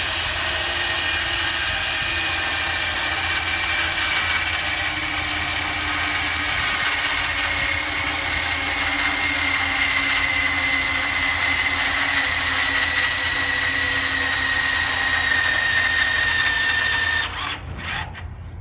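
A TorcUP Volta electric torque tool set to 2,400 foot-pounds runs on a locomotive crab nut, giving a steady, loud mechanical whine and gear drone that holds for most of the time, then stops with a few clunks.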